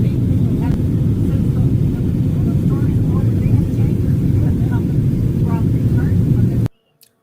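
A plane's engine drones in a steady, loud low roar throughout aerial footage of the Los Angeles wildfires, with faint voices just under it before it cuts off abruptly at the end.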